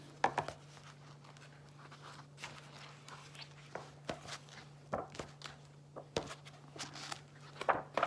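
Pages of a thick storybook being flipped quickly, a run of soft papery rustles and light flicks spread unevenly over several seconds, close and faint, with a steady low hum underneath.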